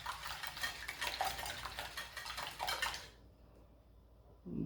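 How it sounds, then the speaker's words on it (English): Eggs being whisked with garlic powder, black pepper and salt, a steady brisk scraping and clinking of utensil against bowl for about three seconds, then stopping into near silence. "Mix that right in with your eggs."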